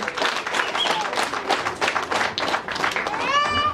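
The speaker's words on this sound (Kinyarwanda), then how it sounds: "amashyi ku Mana yacu" Guests at a Kinyarwanda church wedding ceremony clap for God, a lively uneven patter of many hands with voices and a faint cheer mixed in, ending in a sung or shouted note.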